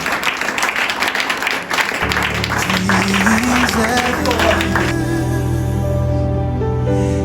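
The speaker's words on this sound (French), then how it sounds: "Est-ce qu'on peut acclamer fort?" Church congregation clapping and cheering at a Sunday service, a loud sustained burst of applause up close before music swells in and takes over.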